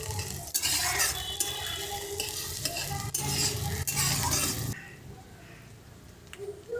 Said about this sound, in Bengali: তারপরে দিচ্ছি সর্ষের তেল, পেঁয়াজ কুচি আর চেরা কাঁচা লঙ্কা দিলাম। পেঁয়াজটা এবার একটু ভেজে নিচ্ছি।